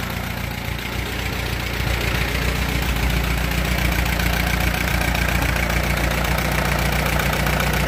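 An Allis Chalmers B tractor engine idles steadily and loudly up close, a continuous low, rumbling chug with an even knocking rhythm that stays constant throughout.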